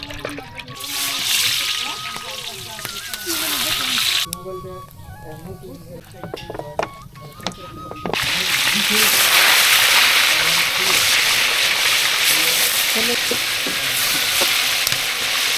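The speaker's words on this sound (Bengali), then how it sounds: "সুন্দর করে মশলা ভাজা হচ্ছে" Oil sizzles and crackles steadily as spices fry, with stirring clinks and scrapes; the hiss grows louder and denser in the second half.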